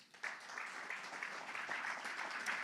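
A congregation at an evangelical church service applauds the Lord, a steady, moderately quiet rush of many hands clapping together without pause.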